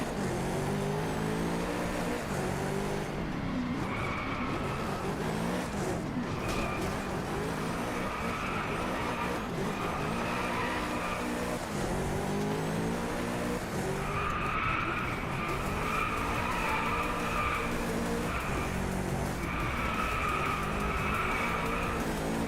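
Koenigsegg hypercar racing in the Driveclub video game during a time trial, its engine note rising and falling through gear changes with repeated tire skids and squeals, loud and continuous throughout with no talk.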